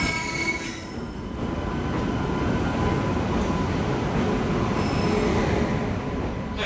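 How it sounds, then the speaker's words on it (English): Gentleman Express train running from Delhi to Agra, heard from inside with a steady loud rumble of wheels on rails, rattling carriages and faint squealing tones throughout. "Just boarded the Gentleman Express train here in Delhi"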